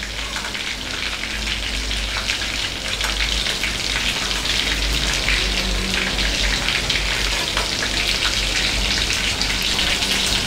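Oil sizzles and crackles steadily in a frying pan while chilli chicken is cooked, a close, even spitting hiss like light rain that continues throughout.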